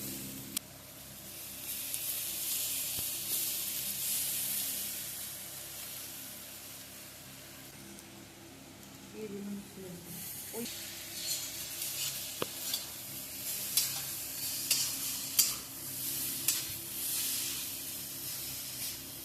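Chowmein frying in a pan with turmeric gives a continuous soft hiss and sizzle, with occasional faint clicks of stirring and a slight swell in the second half.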